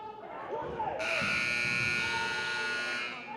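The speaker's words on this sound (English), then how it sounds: "And the buzzer will sound." A loud, flat electronic buzzer ends a quarter of a high school boys' basketball game, blaring and holding steady for a couple of seconds over a murmuring gym crowd.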